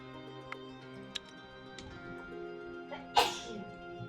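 A single sharp sneeze near the end, preceded by a few faint clicks and ticks over a low steady hum.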